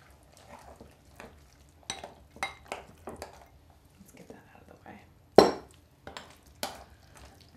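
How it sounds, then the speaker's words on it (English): Ingredients, including eggs, are mixed by hand in a bowl, giving soft intermittent squelches and scrapes with a few sharper clinks against the bowl, quiet and close, with occasional faint voices in between. "Now, just gonna mix all this up."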